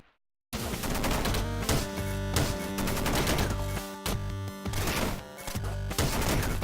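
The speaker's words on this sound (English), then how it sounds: "Machine gun." Rapid machine gun fire in the video game Downwell, dense rattling bursts of chiptune-style gunshots, loud and close, starting after a brief silence and continuing in repeated volleys with short gaps.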